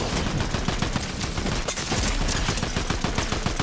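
Rapid video-game gunfire rattles nonstop in dense bursts, loud and close throughout with no talking, like a fusillade of automatic weapons.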